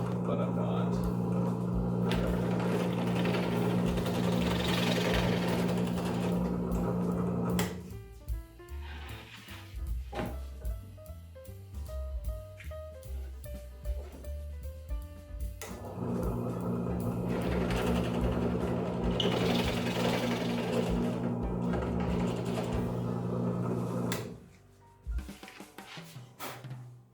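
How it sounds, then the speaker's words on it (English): Drill boring holes through 80/20 aluminum panels, the bit chipping out at the back: two long stretches of steady, close motor hum separated by clattering handling noises, with a voice talking in between. "because of the drill bit I'm using, I actually flip it over and go down as well"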